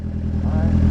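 Motorcycle engine idling close by after a restart, a brief rough, throbbing run with a light clatter and a slight rise in revs.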